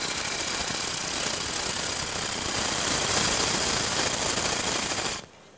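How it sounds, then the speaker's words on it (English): A big, powerful wood lathe turns a workpiece while a tool cuts, producing a dense, steady mechanical roar and hiss that holds for about five seconds before abruptly cutting out, with no voices. "we're speeding the lathe up a little bit"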